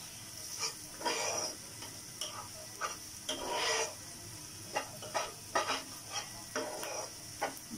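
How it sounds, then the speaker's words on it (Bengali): Masala with turmeric powder is stirred in a pan over a soft sizzle, with repeated scraping strokes of the spoon coming in irregular bursts, fairly quiet and with no voices. "আমরা মশলাটাকে সুন্দর করে একটু ঘুনা ঘুনা করে নিচ্ছি"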